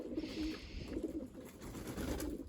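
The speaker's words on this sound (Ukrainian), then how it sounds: "голуби голодні" Pigeons coo softly and repeatedly, low throaty burbling calls close by, with light rustling in the background.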